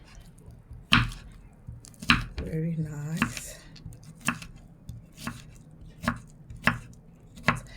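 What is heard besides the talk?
chopping cactus for gel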